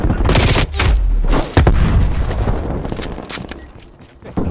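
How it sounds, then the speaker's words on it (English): A frag grenade and gunfire in Call of Duty Black Ops Cold War multiplayer, a rapid volley of sharp gunshots and a deep blast, loud and close, fading toward the end before another shot. "Throwing frag grenade."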